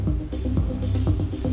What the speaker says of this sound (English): The space effect sounds like this.